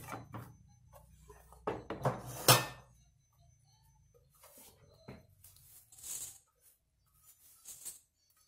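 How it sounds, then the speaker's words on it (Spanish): Toasted oat granola is tipped from a pan into a bowl: a short run of scraping, clattering knocks over the first few seconds, followed by quieter scattered taps and clinks. "Lo vuelco esto al bol."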